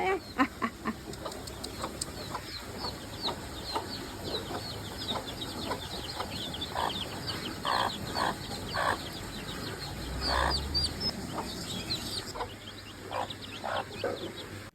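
Village chickens clucking and calling at feeding time, a busy flock of repeated short clucks and squawks close by, with some background noise and no talk.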